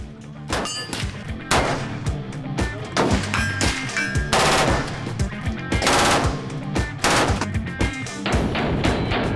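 Full-auto H&K MP7 submachine gun firing at an outdoor range, loud close bursts of rapid shots in several strings with brief pauses, metallic ringing between them.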